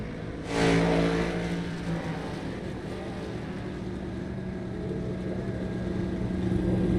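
Race cars drone steadily on track during a pit stop in a NORA Cup Series race, a loud, continuous engine roar with a sharp swell near the start, heard alone without talk.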